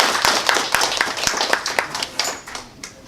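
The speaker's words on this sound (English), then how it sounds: "Please give her a round of applause for everything that she's done for us." Audience applause at an autism awareness month event, a steady patter of many hands clapping with some sharper nearby claps, fading slightly toward the end, with no speech over it.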